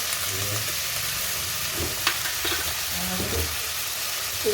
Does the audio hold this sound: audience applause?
no